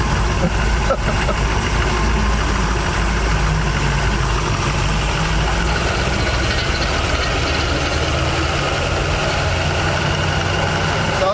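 The engine of a 1979 Chevy G20 custom van runs steadily, a loud, constant low rumble on its first drive after 35 years, heard from inside the cab with no clear speech.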